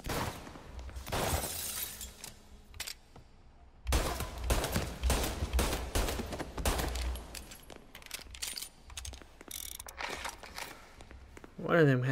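Tommy gun fire in a Mafia shootout: rapid bursts of automatic gunfire mixed with shattering glass and scattered single shots, loud and uneven in rhythm, with voices talking between the bursts.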